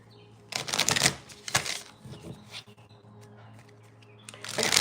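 Cards are riffled and shuffled in quick crisp bursts, with pauses between, followed by another riffle at the end; close and fairly quiet.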